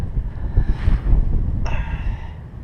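Steady wind gusts buffet an outdoor spot during work on a 1994 Ford Ranger 4WD, a continuous low rumble of wind noise on the microphone that swells and eases throughout, loud and close with no talking.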